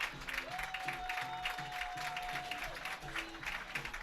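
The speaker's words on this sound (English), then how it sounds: "The crowd's starting to get amped up." Crowd at a college baseball game applauding and cheering continuously, with a steady wash of clapping while an announcer talks over it.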